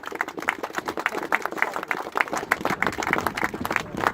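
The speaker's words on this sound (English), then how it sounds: "So give yourself a round of applause, please." A crowd at an outdoor community rally in Rochdale claps in scattered, uneven bursts, a moderate patter of many hands heard from close by with no voices over it.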